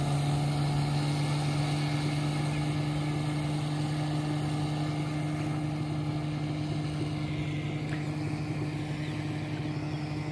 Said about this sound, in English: There goes Rich and his little boat